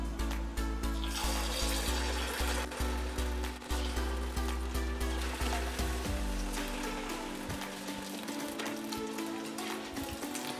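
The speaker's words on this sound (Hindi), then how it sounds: "इसे हमें गोल्डन फ्राई होने तक फ्राई करना है" Chinese samosas deep fry in hot oil in a kadai over a medium-low flame, giving a steady, dense sizzle and crackle that continues unbroken throughout, close and fairly loud, with no voice.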